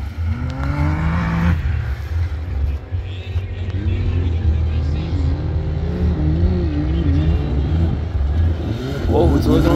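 A rally car runs a dusty mountain rally course at Mountain Mayhem 2023, its engine droning and shifting pitch steadily throughout while an announcer talks over it.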